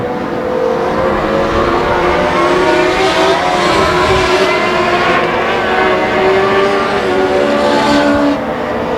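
Race cars roar around a speedway oval in a dense, continuous pack, engines droning loud and steady with rising and falling pitch as cars pass through traffic.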